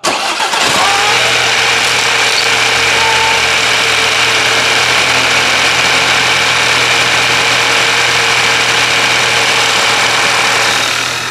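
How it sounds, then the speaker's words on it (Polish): An Audi A5 Coupe 2.0 TFSI engine cranks and fires, then settles into a loud, steady idle with a low hum and faint ticking, close up and without voices. "Odchodzę od samochodu i zapalamy silnik."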